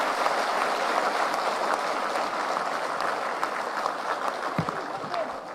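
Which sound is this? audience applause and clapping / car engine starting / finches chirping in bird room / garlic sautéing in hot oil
audience applause and clapping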